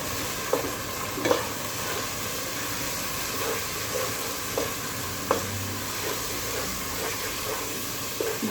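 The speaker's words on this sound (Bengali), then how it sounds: "ভালো করে নাড়াচাড়া করে মশলাটা একটু কষিয়ে নেব" Spices sizzle and fry in a pan for chicken curry while a utensil stirs them, giving a steady hiss with repeated scraping taps at close range and no talking.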